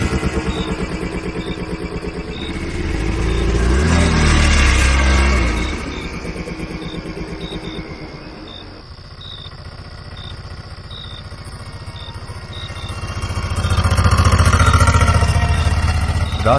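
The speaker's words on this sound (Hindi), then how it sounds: "ऑटो में बैठते ही राजू भाई ने चुपचाप इंजन स्टार्ट किया" An auto rickshaw engine starts up and drives off, a steady mid-pitched motor drone with clattering and swells in loudness as it pulls away along the road.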